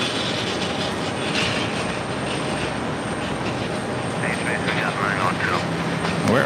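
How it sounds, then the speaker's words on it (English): ASL Airlines Boeing 747-400 freighter at JFK, a loud steady jet engine roar filling the scene, with a voice speaking over it and brief chirpy radio-like sounds near the end. "Also have a Queen ASL Airlines flight 11 heading to Liege. It's a 747-400 freighter."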